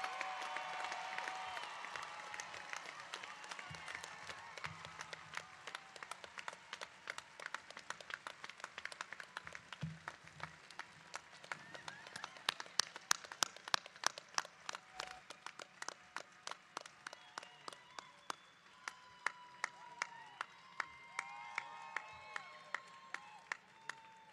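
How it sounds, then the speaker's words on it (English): A graduating class receives a round of applause at a university commencement: broad crowd clapping that thins into scattered, sharp individual claps and a few faint cheers, then swells back into sparse clapping near the end. "Can we give our class of 2018 a big round of applause?"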